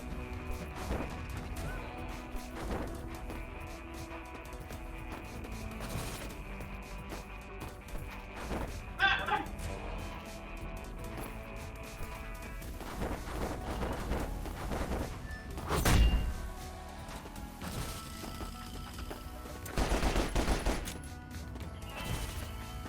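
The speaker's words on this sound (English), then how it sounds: "Did your kunai just make a gunshot sound?" In a video game, a thrown kunai gives off a sharp gunshot-like bang near the middle. Scattered crashes, thuds and clatter from the game surround it, all at a fairly low level.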